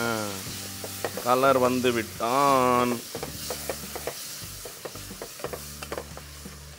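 Spices and salt being stirred into donne biryani in a pot, scraping and sizzling strokes close by, partly under a man's speech at the start and continuing as a steady clatter.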